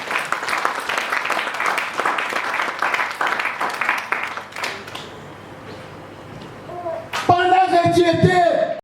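Church congregation applauding during a French-language sermon, dense continuous clapping for several seconds that thins out, with a voice speaking over it near the end.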